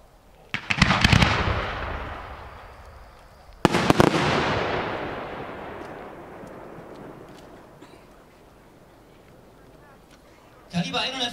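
Large display fireworks fire as a five-shot fan at a pyrotechnics product demonstration: two loud volleys of rapid launch thumps, each trailing into long rumbling echoes, then a further crackling burst, heard outdoors at a distance.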